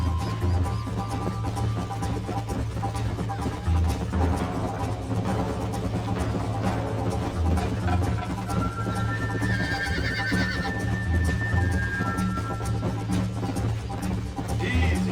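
A horse in the video game Red Dead Redemption whinnies and neighs over steady hoofbeats and a constant low hum, with a brief spoken word partway through.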